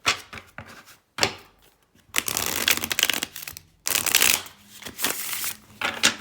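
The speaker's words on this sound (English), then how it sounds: "when I shuffle my tarot cards, I like to do that shuffle" A 78-card tarot deck is shuffled in several quick riffling bursts separated by short pauses, close and crisp.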